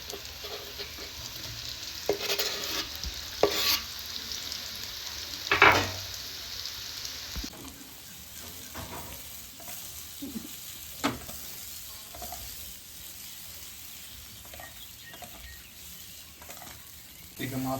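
Onions hit hot oil with capsicum for a cashew prawn fry, starting with a loud, dense sizzle and a few clattering stirs that settle after several seconds into a quieter, steady frying hiss.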